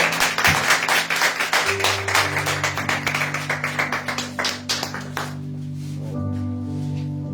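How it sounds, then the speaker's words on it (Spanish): A church congregation at a Spanish-language service claps loudly and rapidly for several seconds before the applause fades out, leaving sustained organ or keyboard tones ringing on alone. "Den un aplauso fuerte, sí, para Cristo."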